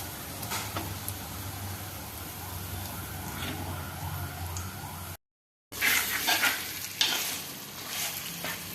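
Cooked lemons being mixed into a lemon pickle, soft wet stirring and scraping with a faint sizzling texture, close and steady, broken by a brief silent gap.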